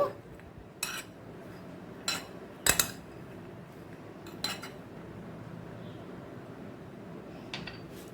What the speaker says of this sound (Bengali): দিয়ে দেব লেবুর রস ভালো করে মিশিয়ে নেব